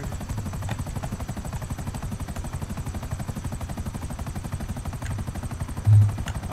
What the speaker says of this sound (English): Helicopter, drop away.